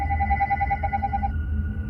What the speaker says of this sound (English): Oh, that's your phone? It's my house phone.